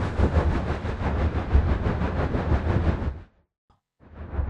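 A Seoul subway train pulls out of Seoul Station with a loud, steady rumble of wheels and motors that cuts off abruptly near the end, then resumes after a brief silence.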